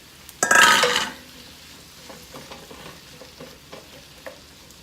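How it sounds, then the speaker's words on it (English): Tomatoes go into a hot pan of gnocchi, setting off a loud sudden burst of sizzling that fades within a second into a soft crackle, with a few utensil clinks and no voices. "And now I'm going to put the tomatoes"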